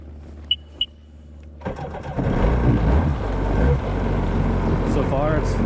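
A Sea-Doo XP DI personal watercraft two-stroke engine, fitted with new spark plugs, cranks and fires up, then runs steadily with a loud, rough idle that fills the rest of the clip after two short beeps.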